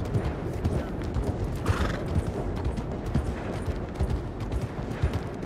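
Horse hooves clip-clopping over a dense, rumbling background, with a brief whinny rising partway through, in the video game Red Dead Redemption 2; no talking.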